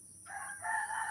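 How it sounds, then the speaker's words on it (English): A rooster crows outdoors in Thailand, a clear, moderately distant cock-a-doodle-doo rising in two strained phrases over a faint background hum, with no talk. "You hear the rooster?"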